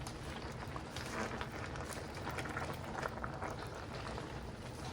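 Pork pot greens simmer in boiling pot liquor, giving a faint, steady bubbling and gurgling wash that continues evenly with no talking.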